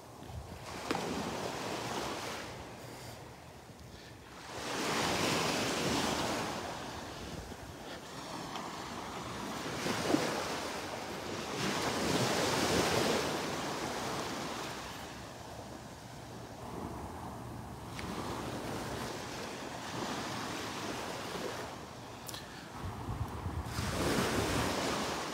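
Surf rolls onto the beach at Delnor-Wiggins while wind buffets the microphone, the waves swelling and receding in slow surges about every few seconds, moderately loud with no voices.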